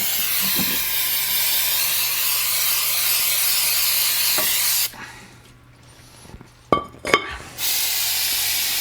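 Brake cleaner sprays from a can onto the brakes of a 2007 EZGO TXT gas golf cart, a loud steady hiss that cuts off abruptly, followed by brief clinks and a second short burst of spray.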